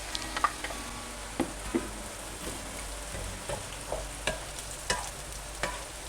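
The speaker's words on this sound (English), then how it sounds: "Give that a stir around, and I'm going to add in a little bit of baby onion." Garlic, ginger and baby onion being stirred and fried in a pan for Thai chicken rice, with a soft steady sizzle and scattered scraping stir strokes at close range, no talking.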